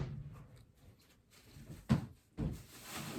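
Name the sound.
knocking on a door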